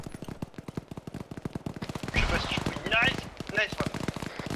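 Rapid automatic gunfire rattles in sustained bursts during an Arma military video game firefight, near and dense, with louder blasts mixed in and voices talking over it.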